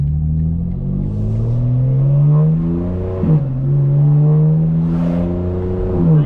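A 2025 BMW M4 Competition rides along a highway, its engine droning loud and close as the revs climb and fall in smooth sweeps, with one quick dip and recovery partway through, and no talking over it.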